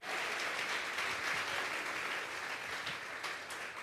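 A church congregation claps as an offering of praise during a live worship service, a steady wash of many hands at moderate distance with no talk over it.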